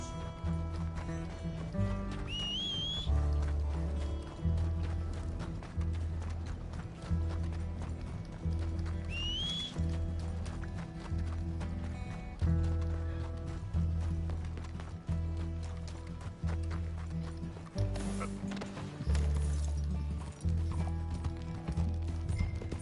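A horse gallops in Red Dead Redemption 2, with rhythmic clip-clop hoofbeats over a low musical score and occasional whinnies as the rider chases a coach.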